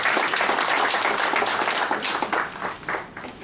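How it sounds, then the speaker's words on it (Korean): Applause from an audience at a rally calling for a political party's dissolution, a dense, loud wash of clapping that continues steadily and thins slightly toward the end. "정리의 박수를 드리겠습니다"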